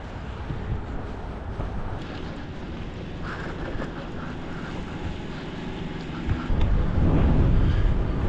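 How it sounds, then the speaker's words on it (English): Strong winter wind buffeting a microphone outdoors on a cold, lightly snowy day, a steady broadband rumble that swells and grows louder in the final seconds, with no talking. "it is horribly windy"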